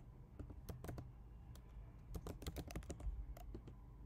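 Computer keyboard typed at a quick, uneven pace while entering a terminal command for a React project, with close, crisp key clicks in irregular bursts and no talking.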